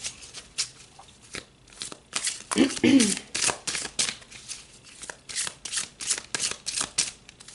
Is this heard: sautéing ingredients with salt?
no